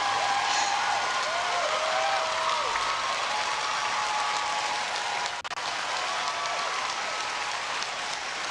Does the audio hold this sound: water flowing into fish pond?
no